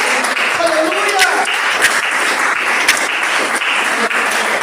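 A church congregation applauds God in a loud, continuous wash of clapping, with cheering voices and a few sharper individual claps mixed in.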